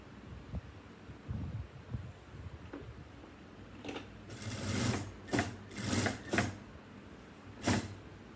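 A sewing machine stitches pinned fabric pieces for a shoulder wrap, sounding as a few short, faint bursts of rapid whirring with quiet creaks and handling noise before them.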